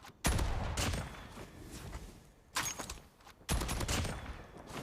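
Video game kill effect from an upgraded mythic JAK-12 weapon: three loud bursts of rapid gunfire-like blasts, each decaying into a rattling tail, separated by short gaps.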